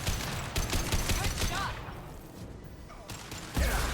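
Rapid bursts of gunfire in Mass Effect 2 combat, loud, close, overlapping shots that pause briefly midway, then resume with a heavy impact near the end.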